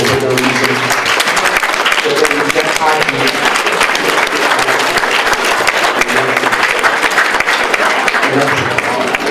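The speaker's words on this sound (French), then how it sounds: "je vous demanderai de vous lever et de l'applaudir très fort" A standing audience applauds loudly at a book signing ceremony, a dense, continuous wash of clapping with faint voices mixed in.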